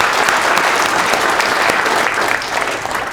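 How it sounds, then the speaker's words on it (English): Audience clapping in a seminar on speaking clearly, a loud, close, continuous burst of many hands that stays steady and eases slightly at the end. "Give him a round of applause, please."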